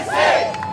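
A crowd at a town hall event in Flint, Michigan cheers and shouts together in a loud, swelling burst, with no clear talk on top.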